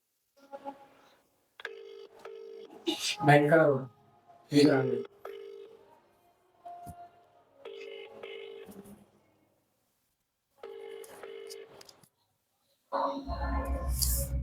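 A phone call connecting: tonal beeps and repeated ringback tones with pauses, a voice speaking between them, ending in a burst of noisy sound.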